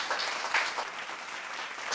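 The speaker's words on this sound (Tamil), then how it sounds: "இந்த குழந்தைக்கு தனிப்பட்ட முறையில் எல்லாரும் ஒரு கைத்தட்டு கொடுக்கணும்" Brief burst of audience clapping at a Tamil children's speaking competition, rewarding a young girl's speech; a dense, even patter of many hands heard alone for about two seconds.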